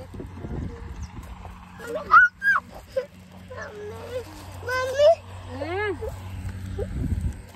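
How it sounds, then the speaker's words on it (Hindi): A puppy gives a few brief whimpers and high yelps over a low background hum, with people talking and clatter around it. "अंशु को बहुत डर लगता है कुत्ते से।"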